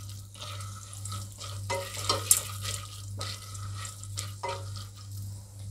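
Corn kernels being stirred in a pressure cooker for popcorn, giving soft scraping and rattling strokes over a low steady hum, moderately quiet and without speech.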